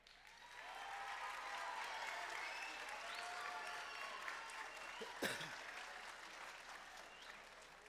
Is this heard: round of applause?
yes